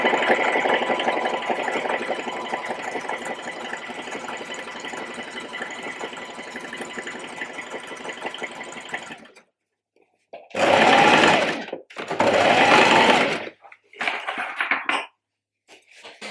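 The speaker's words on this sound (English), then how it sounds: "I'm just going to continue sewing down each of those lines that I've drawn." A sewing machine stitches shirring lines on fabric for a shirred-back jumpsuit, a steady close whirring hum for about nine seconds, then after a pause three shorter bursts of stitching.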